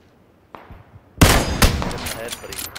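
Gunfire in the PUBG battle royale game: one faint distant shot, then a loud close burst of several rapid cracking shots that trails off.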